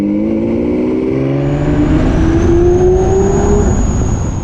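A Lamborghini Aventador SVJ's engine revs loud and close, its rising harmonic tones climbing and falling through several gear changes over a steady roar, with no talking.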